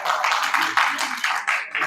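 A small audience at a psychology congress claps steadily in a brief burst of applause, fairly close, with no voices over it.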